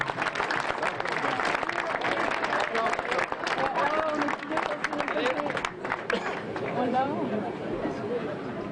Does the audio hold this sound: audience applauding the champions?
yes